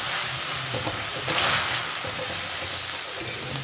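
Milk poured into hot ghee in a home kitchen, giving a steady, close frying sizzle throughout with a brief louder hiss in the middle.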